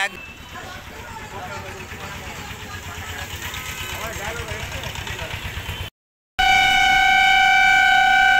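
The engine of the Tarapith to Krishnanagar bus idles with a steady, even rumble under background voices. It then cuts out abruptly and is followed by a different, tonal sound.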